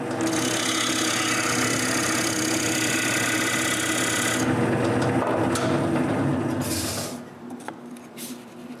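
A wooden cryptex cylinder being sanded on a spinning lathe gives a loud continuous whirring hiss close by, which drops away toward the end as the machine winds down, with no voices.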